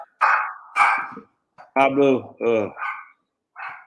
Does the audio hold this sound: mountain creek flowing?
no